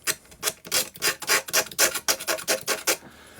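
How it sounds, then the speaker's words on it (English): Scraping at the stonework of a model French chateau with a file, about a dozen rhythmic rasping strokes in steady succession, close and moderately loud with no talking. "Do a bit of scraping."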